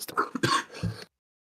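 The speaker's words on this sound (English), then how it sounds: "Wrong time for a cough, I apologise." A single person coughs and clears their throat in a short, close burst of a few rough bursts, then silence, during commentary on an offroad GT3 endurance racing championship.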